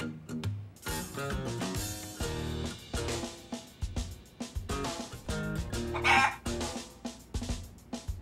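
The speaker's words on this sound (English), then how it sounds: "Why is there a chicken here? That's Omelette, our company pet." A company pet hen in the Yakuza: Like a Dragon video game clucks and squawks repeatedly, close and clear, over steady background music.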